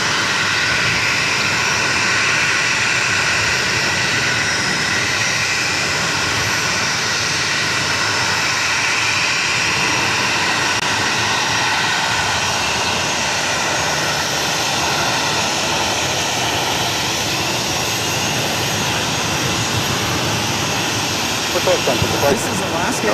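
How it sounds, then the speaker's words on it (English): An Alaska Airlines Boeing 737-900ER in One World livery arrives at Boston Logan, its jet engines a loud, continuous broadband roar that stays level from start to end, with a brief clatter near the close. "This is Alaska Airlines 424 coming in from Seattle on the 737-900ER in the One World livery."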